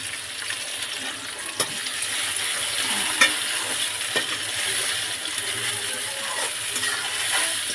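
Garlic cloves, tomato and spices sautéing in a pan, a steady sizzle broken by occasional sharp clicks and scrapes of stirring.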